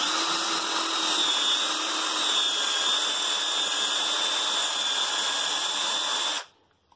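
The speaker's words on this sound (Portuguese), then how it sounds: "Vamos mudar para 2 para deixar ela mais rápida. E vamos fazer o furo aqui para vocês verem." A Bosch GSR 180-LI 18V lithium-ion cordless drill set to its faster second speed bores a hole, a steady high whine running loud and close for several seconds before cutting off abruptly.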